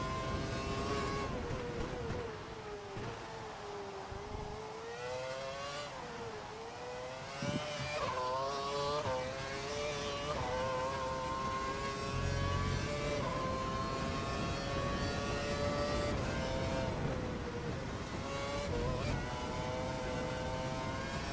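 A Formula 1 car engine in F1 2012 at the British round, a continuous high-pitched whine that climbs and dips with gear changes and throttle, steady and prominent throughout.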